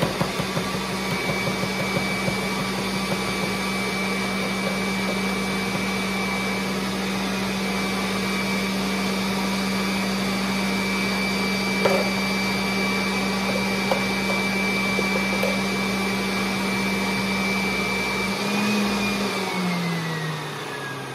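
A ModelE juicer processing ginger runs with a steady, loud motorized whine and hum for about twenty seconds before winding down at the end.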